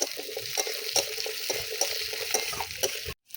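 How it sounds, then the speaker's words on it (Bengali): Diced potatoes frying with onion in a hot pan for a Bengali fish and eggplant curry, a steady close sizzle with regular stirring scrapes throughout, ending abruptly. "আলুগুলো পেঁয়াজের সঙ্গে একটু ভেজে নেব।"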